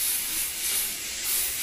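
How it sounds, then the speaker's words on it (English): An airbrush spraying thinned paint at low pressure, around 15 psi, giving a steady close airy hiss that swells slightly in places, with no voices. "That's probably about 15 psi, and it's spraying, it's atomizing that."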